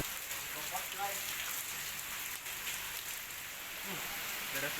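Heavy rain pours down during bad weather with strong winds in Banjarmasin, a dense, steady hiss of drops hitting surfaces that runs unbroken throughout, with faint voices barely audible beneath it.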